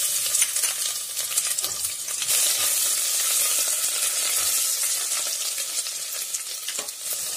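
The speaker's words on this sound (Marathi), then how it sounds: "मग त्यानंतर आपण त्यात अद्रक लसूणची पेस्ट टाकून घेऊ।" Ginger garlic paste frying in hot oil with peanuts sizzles continuously, with brisk stirring scrapes and light metallic taps from a spoon running throughout, close and fairly loud.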